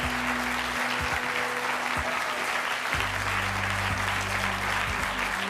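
A studio audience claps in steady, dense applause for a guest joining the set of a French talk show, a sustained wash of hands with faint voices underneath.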